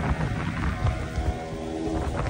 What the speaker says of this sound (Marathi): कसला पाऊस आहे भाई, कसला पाऊस, डेंजरला पाऊस आहे